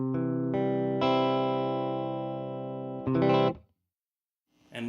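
Clean electric guitar played through a tweed amp with no effects, sustained chords ringing loud and close for about three seconds, a short strummed burst, a pause of silence, then another chord starting.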